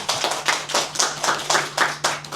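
A small audience at an anthropology lecture forum claps to welcome a speaker, distinct individual claps in a quick, uneven rhythm, close and fairly loud, with a faint steady hum beneath.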